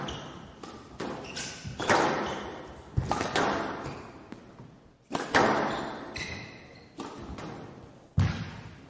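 A squash ball is struck repeatedly in a professional match at the Ace Malaysia Squash Cup 2023, with sharp hits and wall thuds in a quick, irregular rally, each ringing briefly in the echoing court.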